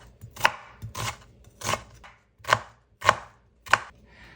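Onion chives being chopped on a cutting board, six sharp knife strikes landing in an even, unhurried rhythm, close and clear with no talking.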